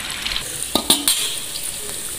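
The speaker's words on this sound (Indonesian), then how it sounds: "Ini kita sedang goreng tahu untuk campuran gulai ikan." Tofu fries in a pan as a side ingredient for Indonesian fish gulai, a steady close sizzle with a few sharp clinks of a utensil stirring and scraping against the pan.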